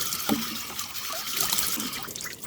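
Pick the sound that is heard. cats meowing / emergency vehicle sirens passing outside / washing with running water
washing with running water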